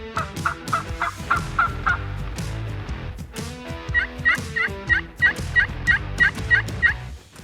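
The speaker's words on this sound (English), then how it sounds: "now I found some turkeys." Wild turkeys in Oregon's black-tail deer country answer in loud gobbling bursts, one volley early and a longer rapid run of calls later, over some nearby rustling.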